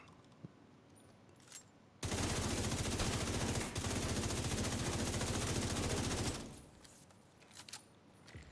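A sustained burst of automatic gunfire in the video game The Division 2 rattles continuously for about four seconds, loud and dense, between quieter stretches of faint game ambience.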